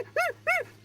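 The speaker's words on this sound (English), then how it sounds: "you hear whining, painful whining" Two short high-pitched whines from a dog in pain in quick succession, rising and falling, close and fairly clear over a low hum.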